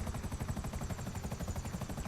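An Akula helicopter in GTA V Online gives a steady, fairly quiet rotor thrum with rapid pulsing blade chop throughout and no talking.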